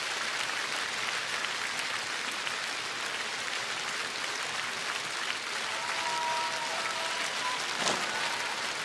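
A concert audience applauds in a dense, steady wash of clapping that keeps going without a break, with a faint tone passing briefly near the end.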